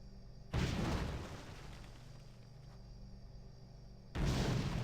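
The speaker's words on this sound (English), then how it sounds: "He just keeps throwing bombs" Bombs hurled by the master engineer boss Telonicus explode in a World of Warcraft raid in The Eye: a heavy, booming blast, a lingering rumble, then a second loud burst near the end.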